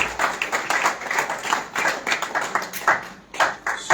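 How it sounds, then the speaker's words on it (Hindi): An audience at a Chennai literary festival claps to welcome a speaker to the stage, a brief burst of close, uneven clapping with rhythmic swells. "मैं चाहूंगा जोरदार तालियों से आप स्वागत करें"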